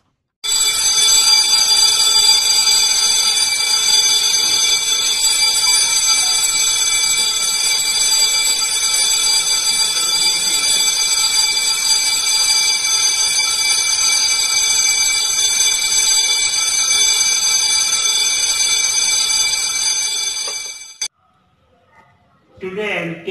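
Quorum bell in a state legislative assembly, a loud, continuous electric ringing held for about twenty seconds before stopping abruptly, followed by a brief quiet stretch and faint noise.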